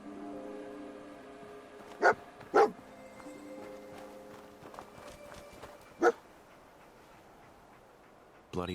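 Dogmeat, the dog companion in Fallout 4, barking in sharp isolated woofs, two quick barks close together and a third a few seconds later over a quiet game background.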